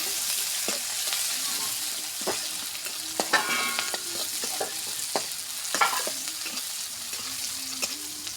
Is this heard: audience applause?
no